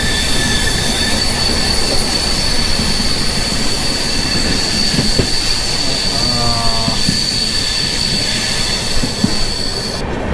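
The Hapa Duronto Express runs along the track, giving a loud, continuous rumble with high, sustained wheel squeals and a few clacks as it passes, close and with no talk.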